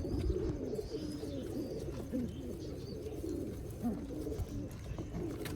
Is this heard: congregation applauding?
no